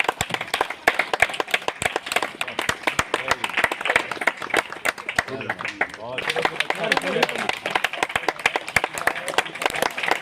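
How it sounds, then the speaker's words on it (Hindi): Sustained applause from an audience at a gathering in the courtyard of a Mahakaleshwar temple during a cleanliness drive, with dense clapping throughout and a voice speaking over it near the middle. "ताली बजा दीजिए।"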